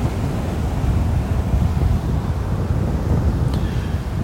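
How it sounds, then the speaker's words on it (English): Strong wind buffets a handheld camera microphone on a beach walk at sunset in North Naples, Florida, giving a loud, continuous rumbling roar with faint surf underneath and no talking. "Now I'm going right into the wind. So it's hard to keep the camera steady."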